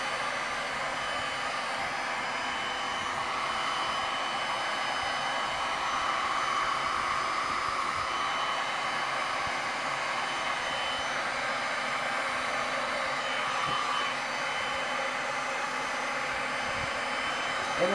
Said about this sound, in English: It'll take a second for the heat gun to heat up and start working.